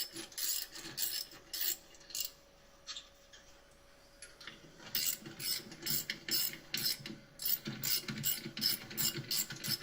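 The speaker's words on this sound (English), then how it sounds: "I'll just do this with the ratchet" A hand ratchet wrench clicks in quick bursts of sharp, close ticks, pausing briefly midway before resuming in rapid repeated strokes, with no talking.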